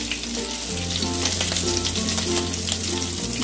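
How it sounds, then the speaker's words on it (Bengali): Pointed gourd pieces frying in prawn oil with salt and turmeric, a steady close crackling sizzle with fine spitting pops, over a low hum, with no talk. "এই চিংড়ি মাছের তেলের মধ্যেই প্রথমে আমি পটলগুলোকে ভেজে নেবো"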